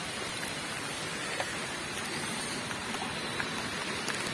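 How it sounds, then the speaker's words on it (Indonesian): Steady rain falls and patters on surfaces around a riverside catfish fishing spot during flooding, a continuous dense hiss filling the whole stretch with no voices. "Tapi ini hujan lagi bos."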